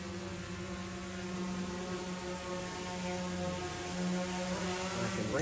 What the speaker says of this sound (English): the aircraft's now facing towards us.